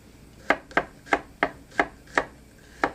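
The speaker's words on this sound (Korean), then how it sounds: "먼저 편 썰고요. 편썬 마늘은 다시 채 썰고 다집니다." Knife chopping through garlic on a cutting board, seven sharp, distinct chops at a moderate, slightly uneven pace, close and clear with no talking.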